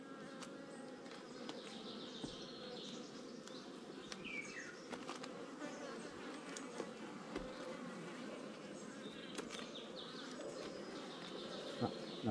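Honeybees buzzing steadily in an open hive during queen introduction, a dense continuous hum of many insects close by, with faint handling noises and no talk.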